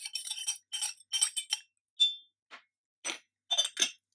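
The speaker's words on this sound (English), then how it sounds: "Now if you stir your tea leaves," A metal spoon stirring tea leaves clinks repeatedly against glass in quick irregular bursts, bright and close, with short pauses between the taps.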